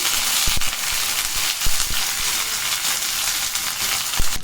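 Curry leaves spit and crackle loudly in hot oil, a dense continuous sizzle with sharp popping bursts scattered throughout.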